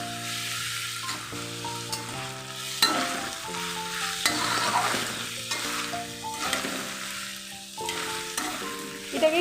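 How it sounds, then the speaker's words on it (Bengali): Bamboo shoots and chopped onion fry with cumin in a pan, giving a steady close sizzle that runs alone throughout, with tonal music playing over it. "যে কেটে রাখা পেঁয়াজ কুচিটা রয়েছে সেটাও এখন আমি একসাথেই দিয়ে ভাজা ভাজা করে নেবো"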